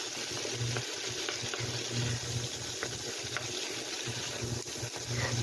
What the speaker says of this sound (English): And the last mixing, stir frying.